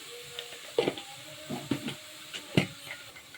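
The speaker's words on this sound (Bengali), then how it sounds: "এখন আমি এখানে সবজিগুলি দিয়ে দিচ্ছি" Vegetables tipped into a hot pan of oil with fried dried red chillies for a Chinese-style dish, giving several short sizzling bursts and stirring scrapes close by, with no talking.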